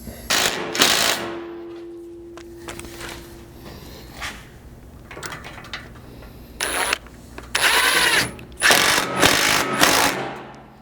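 Skid plate hardware bolts being tightened with a ratchet during a Land Cruiser 200 Series and LX 570 skid system install: bursts of rapid ratcheting clicks, close and fairly loud, separated by short pauses with metallic handling noise.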